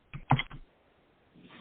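A short burst of computer keyboard typing, a quick cluster of clicks near the start, followed by quiet and then faint noise at the end; no one speaks.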